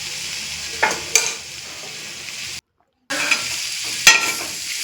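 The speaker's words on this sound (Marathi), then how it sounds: "कांदा चांगला परतायचा, थोडंसं मग त्याच्यामध्ये तेल टाकायचं" Chopped onion sautéing in oil in a pan, a steady close sizzle with a few sharper scraping stirs, briefly cut to silence midway before the frying resumes.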